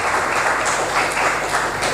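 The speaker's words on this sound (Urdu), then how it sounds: "کیا آپ تالیاں خدا کے جلال کے لیے بجا سکتے ہیں؟" A church congregation claps together in worship, a dense, even wash of applause lasting a couple of seconds.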